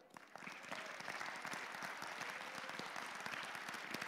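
Steady applause from a crowd, many hands clapping continuously at even loudness for a few seconds.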